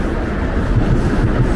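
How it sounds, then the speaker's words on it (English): A Toronto subway train runs past on an outdoor stretch beside Yonge Street near Mount Pleasant Cemetery in winter, a steady loud low rumble with rhythmic wheel thumps over the rails, close and without voices. "Why am I not recording the subway going?"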